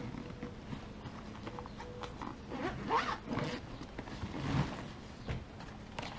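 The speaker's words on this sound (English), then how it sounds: "Zip this up." A zipper is pulled shut on a fishing tackle bag in a few quick, faint strokes, with light rustling and handling noise around it.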